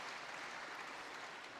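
Steady, dense applause from the crowd at the 2015 Korea Open badminton men's singles final, a continuous wash of clapping that holds evenly for the whole moment with no voices rising above it.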